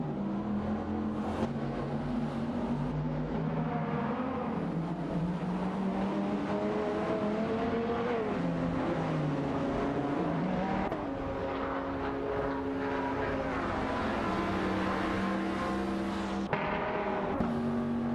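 Several AI race cars in a racing video game roar down the straight, engines droning and rising in pitch as they shift and accelerate, with sustained overlapping motor tones and no talking.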